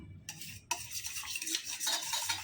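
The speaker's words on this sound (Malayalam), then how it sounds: "ഞാൻ ഇത് എടുത്തിട്ട് നല്ല പോലെ ഒന്ന് കലക്കിയെടുക്കാം" A cleaning mixture being stirred, quiet scraping and swishing strokes against a container, starting after a brief pause and continuing in uneven rubbing bursts, close and soft.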